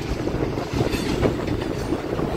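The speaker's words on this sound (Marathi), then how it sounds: "चिंचवडचं स्टेशन ची ट्रेन आपल्याला दिसत आहे शेजारून पास होता ना" A train near Chinchwad station rumbles past close by, a steady rolling clatter of wheels on rails with no voices over it.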